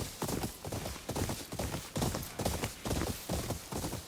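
Horse hooves clip-clopping in the Ghost of Yotei video game, a steady, loud, galloping rhythm of repeated strikes that runs throughout without a break.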